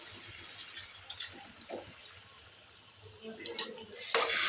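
A steady hiss of water pouring into a pot of chicken gravy, continuous and moderately loud, with a slight splash near the end.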